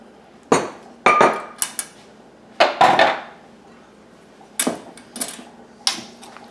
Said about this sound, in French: Je mélange ma crème de maïs et le maïs.